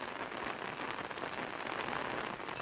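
Heavy monsoon rain falls steadily and close by, a dense, even hiss with no voices.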